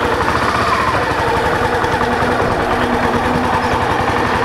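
A Suzuki Intruder VS400 V-twin motorcycle with 5,000 km on it runs with a loud, steady, close-up throbbing pulse, a continuous rumble without any talk.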